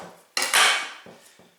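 Dough for hand-kneaded cinnamon rolls slammed onto a counter, one loud close thud with a brief rattling burst, followed by two softer knocks.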